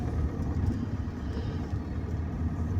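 A car drives steadily on a winter morning, its low engine and road rumble continuous and close throughout, with no talk over it.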